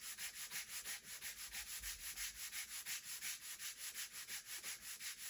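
Hand sanding rasps in a steady, even rhythm of quick back-and-forth strokes, about four per second, quiet and close with no talking.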